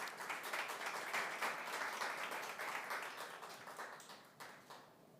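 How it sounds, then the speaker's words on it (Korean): Audience applause welcoming a speaker at a political party event, dense steady clapping from a large crowd that swells early and then tapers off toward the end. "박수로 환영해 주시면 감사하겠습니다."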